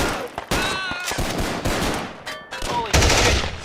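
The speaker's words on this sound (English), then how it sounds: "you can hear some of the same gun sound effects as well that he uses in there" Rapid machine gun fire from an animated war show crackles in dense overlapping bursts, loud and chaotic, with brief gaps between volleys and no talking.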